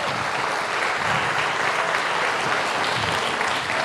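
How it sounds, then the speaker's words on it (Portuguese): An audience at a homicide symposium claps together in a sustained round of applause that stays dense and even throughout, filling the hall at a steady loud level. "Eu queria que vocês dessem uma salva de palmas para ele."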